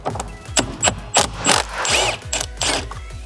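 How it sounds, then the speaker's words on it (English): A ratchet fitted with a 17mm socket undoes the steering wheel bolt on a Mitsubishi Triton, giving close, loud clicking bursts in quick uneven strokes with metallic rattles between them. "Then grab a 17mm socket."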